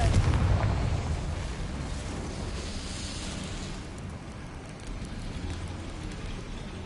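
A Confringo blasting spell goes off in Hogwarts Legacy, a loud broadband explosion that hits at the start and fades into a long rumbling, crackling tail like debris settling, with no voices.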